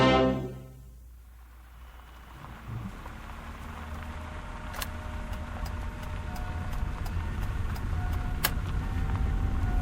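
A car in a radio drama drives and pulls up at Valley View Cemetery, a steady low engine rumble and road noise that builds gradually, with a few faint ticks and clicks along the way and no voices.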